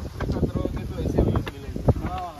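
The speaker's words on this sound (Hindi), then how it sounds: "वाह क्या हवा चल रही है," Heavy wind buffets the microphone during a highway ride on a Benelli TRK502X motorcycle from Mumbai to Lonavala, a loud continuous rumble and gusty roar with people talking over it.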